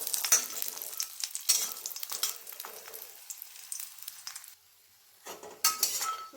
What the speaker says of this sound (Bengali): বড়িগুলোকে এপিট ওপিট করে একটু ভেজে নেব।